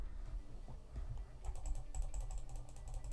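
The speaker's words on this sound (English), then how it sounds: "if I do some typing on my keyboard, I believe you guys can hear it" A computer keyboard is typed on and clicked in a quick, uneven patter of light taps, picked up up close by a FIFINE K688 dynamic microphone against a quiet background.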